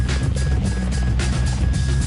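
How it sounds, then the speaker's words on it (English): A US Marine V-22 Osprey tiltrotor aircraft gives off a loud, steady roar of rotors and engines, with deep low rumble and a faint whine held throughout. "the Marines are pinning their hopes on a radical new type of aircraft to carry out over-the-horizon missions, the V-22 Osprey"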